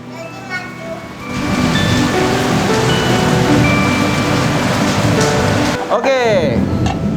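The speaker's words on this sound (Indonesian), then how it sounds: "Hujan." Rain falls outside a home kitchen where pizza bread is being made, a dense steady hiss that swells in after a quiet second and holds loudly, with faint background voices and a brief clatter near the end.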